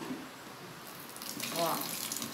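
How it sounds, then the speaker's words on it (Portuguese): About a liter of water poured into a basin of homemade aloe vera soap, a steady splashing gush that swells toward the end, close and continuous with no talking. "Vou colocar mais um litro d'água aqui agora."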